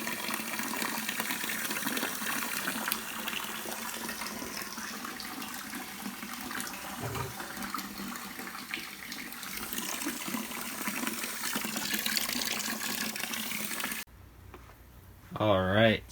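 Water runs steadily into a plastic tupperware tub being set up as an aquarium, a continuous close rushing and gushing fill that stops abruptly near the end, followed by a brief louder thump.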